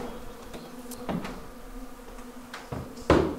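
Honey bees being installed in an observation hive, with a faint buzzing drone and a few louder bees passing close, along with occasional light knocks of the hive equipment.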